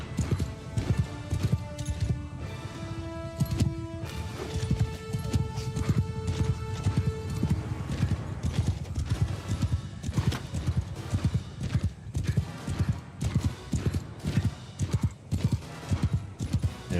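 Horse hooves clip-clop continuously in a video game battle as horse archers ride around, the galloping steady and close, with occasional whinnies and game effects mixed in beneath.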